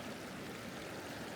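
Shallow stream water rushes and gurgles steadily around a wader standing over bare bedrock at a cold gold claim, a constant close wash with no voices.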